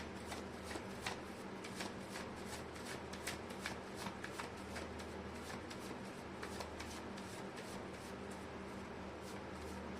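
Tarot cards are shuffled close by in a quiet room, a steady run of soft riffling flicks and light slaps repeating evenly throughout, with no talking.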